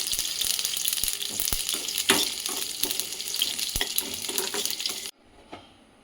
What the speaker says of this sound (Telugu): నువ్వులు పల్లీలు వేగినాయి, స్టవ్ ఆఫ్ చేసుకుందాం.